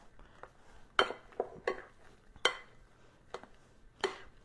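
Ricotta cake batter for a pear and hazelnut-crust cake being mixed in a bowl by hand, a spoon or whisk knocking and clinking against the side in several sharp, irregular strikes over a quiet background.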